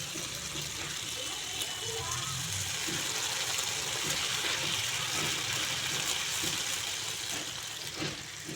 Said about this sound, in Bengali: এখন গ্যাসের ফ্লেমটা বাড়িয়ে গরম জল দিয়ে দিচ্ছি।